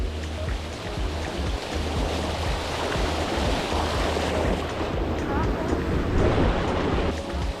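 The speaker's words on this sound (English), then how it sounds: "Currently we are in the middle of the ocean." Steady ocean waves and rushing water surround a sailing boat far out at sea, a continuous broad wash with wind noise and a low rumble throughout, no clear talk.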